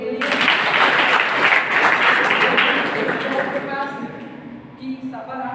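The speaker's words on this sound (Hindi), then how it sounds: "ताली बजाइए इनके लिए।" A live stage audience at a student program claps in a dense, sustained burst that thins out after a few seconds as a voice starts speaking over the last of it.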